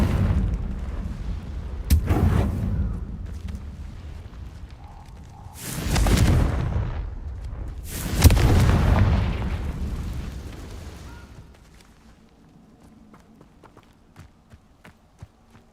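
Confringo blasting spells in the Hogwarts Legacy video game erupt as three heavy booming explosions, each with a sharp onset and long rumbling decay, separated by quieter ambient stretches before fading to near silence.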